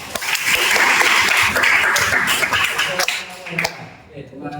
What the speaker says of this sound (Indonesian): berikan tepuk tangannya untuk Mas Agus